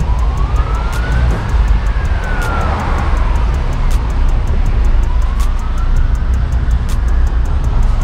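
An ambulance siren on the road, a loud wailing tone rising and falling over heavy traffic and engine rumble, heard from inside a vehicle with steady ticking.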